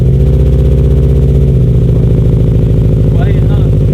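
A Subaru STI fitted with a new Invidia G200 exhaust idles steadily up close, a low, even engine drone that stays subdued throughout, with a brief higher chirp near the end.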